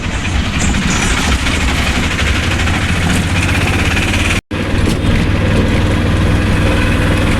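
An auto rickshaw engine rumbles steadily while riding, a dense, loud, continuous drone with road noise and one brief dropout midway.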